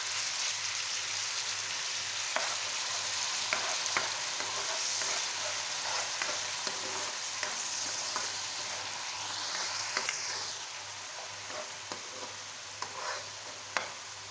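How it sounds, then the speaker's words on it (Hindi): Onion paste fries in half a cup of hot oil while it browns, a dense, loud, continuous sizzle with occasional stirring taps. "इसमें ये प्याज का पेस्ट डालती हूँ, इसको भूनना, ब्राउन करना।"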